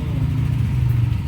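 A motorcycle engine rumbles loud and close in a brief passing burst, a steady low drone with no voices.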